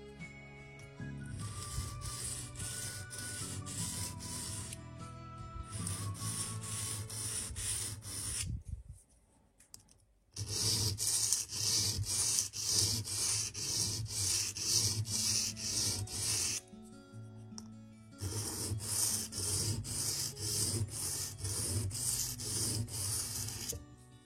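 A leather diamond awl is rubbed against a sharpening stone in long, steady gritty strokes, close and scratchy, broken by two short pauses.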